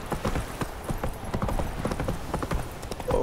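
Horse hooves clip-clop in a quick, steady rhythm in The Witcher 3: Wild Hunt, fairly quiet and continuous throughout.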